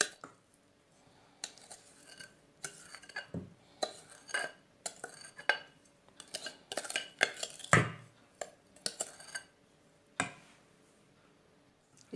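A spoon or whisk scrapes and clinks in a bowl as an oil and sugar mixture is stirred into flour batter for an eggless zebra cake, irregular close taps and rubs with quiet gaps and no talking.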